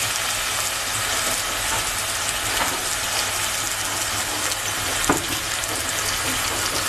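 Spices tipped into a pan of frying onions for a Bengali chital fish curry, sizzling in a steady, dense hiss that stays close and loud throughout with no talk.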